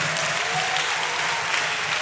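A church audience at an evangelism school event in Abidjan claps in a dense, continuous burst of applause, close and uniform throughout.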